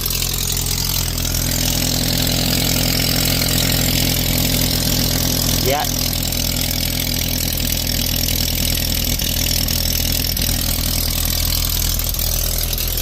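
A car engine with a leaking exhaust idles loudly and continuously nearby, a rough, steady rumble, with a person briefly speaking over it.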